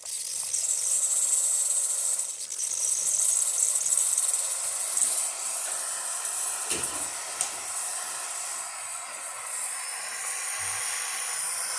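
Steady high-pitched steam hiss from a Breville Barista Express espresso machine wand, continuous and fairly loud, with slight fluctuations and no voices.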